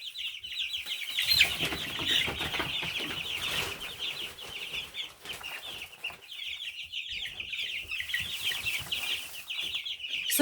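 Two-week-old broiler chicks in a brooder cheep and peep in a steady, busy chorus, fairly close and moderately loud, with a few soft rustles and wing flutters underneath.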